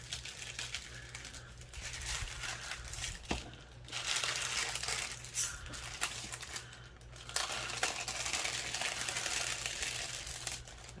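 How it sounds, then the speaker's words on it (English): Shiny backing peeled away from a doily craft piece coated in Mod Podge, giving a continuous crinkly rustle of varying intensity, close and steady without speech. "Just gotta peel it away."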